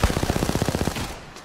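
Rapid automatic gunfire from a weapon in the battle royale game Apex Legends, heard during a competitive ALGS tournament match: one loud sustained burst of about a dozen evenly spaced shots that fades into a short tail, with no voices.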